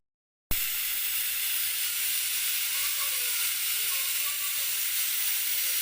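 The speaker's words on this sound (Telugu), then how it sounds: "3 విజిల్లు వచ్చినది." A pressure cooker cooking soaked jowar on a stove lets off a steady loud steam hiss that starts abruptly and holds for several seconds, with no voices.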